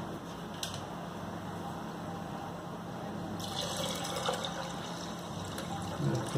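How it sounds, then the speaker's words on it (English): Water pours into a pot of rice while Kootan Choru, a Tamil mixed rice dish, is being cooked. It is a continuous close rushing, filling sound that stays steady throughout and has no speech over it. "Now I will add some water."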